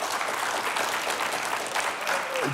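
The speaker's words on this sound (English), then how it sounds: "How about a nice round of applause for all of our sponsors?" A live morning show audience applauds the sponsors, a steady round of clapping with a cheer or two, continuous and fairly close, no talk over it.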